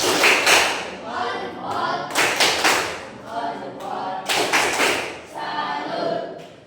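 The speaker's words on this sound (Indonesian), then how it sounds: "Untuk kelompok 1 kasih tepuk salut." Schoolchildren in a classroom perform a rhythmic salute clap for a student group after its presentation, with sharp patterned bursts of claps and thumps repeating in sets, and voices mixed in.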